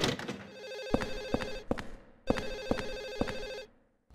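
Repeated telephone ringing in the video game Silent Hill 4, a bright electronic bell sounding in two bursts of rapid rings with a short gap, no talking over it.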